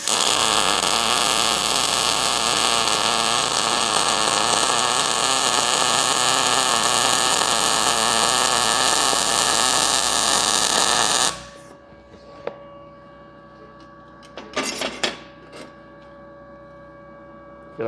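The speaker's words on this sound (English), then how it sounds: "So let's run a weld" An ArcCaptain MIG 200 welder running a weld: a loud, steady crackling hiss for about eleven seconds, then it cuts off abruptly into near quiet with a few brief clatters.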